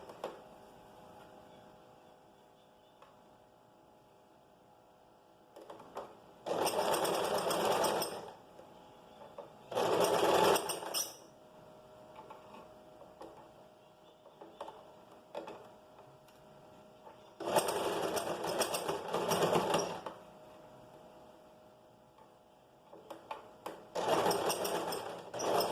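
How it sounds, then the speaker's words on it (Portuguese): A sewing machine stitches the seams of a flared skirt in several separate runs of steady whirring, a few seconds each, with quiet gaps between them while the fabric is turned and opened. "Aí a gente gira e vai abrindo e costurando."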